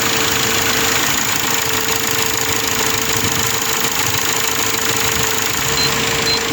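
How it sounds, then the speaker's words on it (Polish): A rebuilt Audi 2.0 TFSI petrol engine idles roughly with a rattling, diesel-like clatter, a steady loud mechanical drone running continuously throughout with no voices. "Dlaczego ten silnik po dwóch remontach pracował niczym rozklekotany diesel?"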